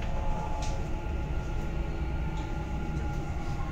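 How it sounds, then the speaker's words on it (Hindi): A driverless Dubai Metro train on the Red and Green lines runs with a steady, even rumble and whoosh throughout, with faint higher clicks and no talking. "क्या बात है यार, अनोखी ड्राइवरलेस ट्रेन है यार, मजा आ गया सच में."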